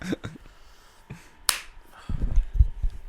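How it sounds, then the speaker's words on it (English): One sharp hand clap marking the start of a podcast recording, loud and close, set between brief murmurs and low handling thumps in a quiet room. "we'll start on the clap as always"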